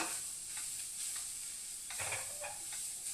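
Okra curry fries slowly over a very low gas flame, a soft continuous hiss with a few light stirring scrapes and pops, quiet and close.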